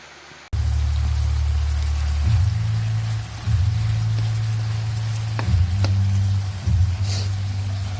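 Steady rain falls on a surface, a continuous dense wash of drops with a heavy low rumble throughout, near and fairly loud, with no voices.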